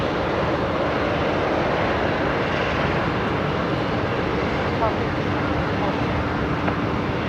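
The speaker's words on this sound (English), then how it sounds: "There is a Qantas 73 departing bottom left-hand corner of your screen now as well." A Qantas jet departing Brisbane Airport makes a steady, continuous roar, loud and broadband throughout, heard from a distance with no talk over it.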